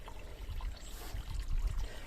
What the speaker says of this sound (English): the water feature is now working. It's on a solar pump